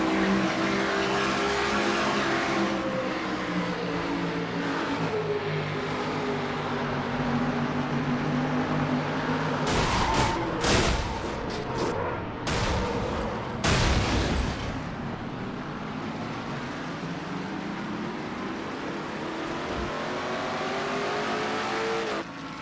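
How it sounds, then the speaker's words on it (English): A race car crash in a NASCAR-style stock car video game at Richmond: engines drone steadily, then a cluster of sharp, loud impacts and tire squeals breaks through midway before the car noise settles back into a continuous roar. "Deaver drops to 31st after this crash"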